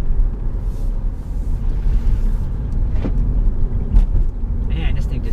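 A 2016 Audi A3 Sportback e-tron, a plug-in hybrid, drives around corners, a steady low rumble of road and cabin noise with faint tyre sounds and brief clicks inside the car.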